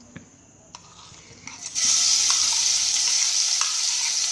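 Green chili, cumin, garlic and ginger paste goes into hot oil tempering for vada pav. A few soft clinks come first, then a loud, sudden sizzle bursts up and holds steady to the end.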